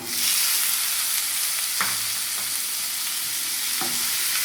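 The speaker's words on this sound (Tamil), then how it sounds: "சேர்த்தி நல்லா வதக்கிக்கலாங்க" Minced chicken keema sautéing with green peas in a pan produces a loud, steady sizzle close up, broken by a couple of sharp utensil knocks against the pan, with no voices.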